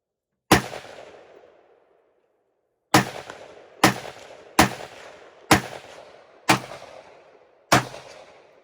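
Seven sharp gunshots ring out at outdoor shooting practice at a cardboard box target, the first alone, then a pause, then six more in a quick uneven string, each with a short echoing tail.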